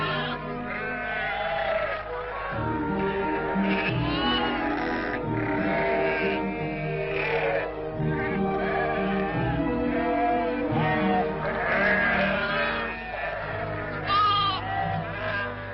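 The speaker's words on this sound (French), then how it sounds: "Nous te choisirons tes moutons" Several sheep bleat repeatedly and overlap, some near and loud, others farther off, in a busy open livestock market in Djelfa, Algeria, with continuous animal calls.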